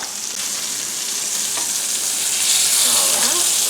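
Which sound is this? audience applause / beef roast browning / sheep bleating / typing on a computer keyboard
beef roast browning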